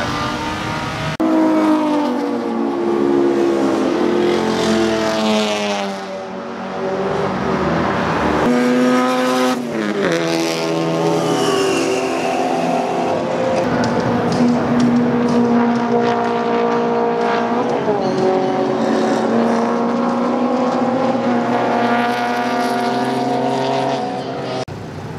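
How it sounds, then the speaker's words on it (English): A turbocharged Mazda Miata race car on the road course at Virginia International Raceway sounds loud and close throughout, its engine pitch climbing and dropping through repeated gear changes under hard acceleration. "This Miata was turboed and super nasty on the track."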